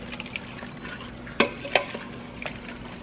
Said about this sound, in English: I'm just gonna stir this around, kind of get everything mixed together a little bit